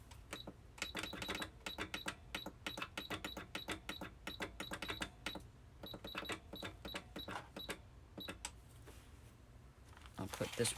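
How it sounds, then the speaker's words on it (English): Home sewing machine running a regular stitch on an Amazon packing envelope, a junk-journal project: rapid bursts of mechanical clattering ticks that start and stop in short runs, fairly faint and close. "put my sewing machine on the regular stitch and run up"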